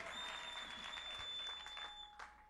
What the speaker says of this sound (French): elle est digne d'être applaudie en l'accueillant, digne d'être acclamée pour dire au Seigneur, nous sommes d'accord avec ta parole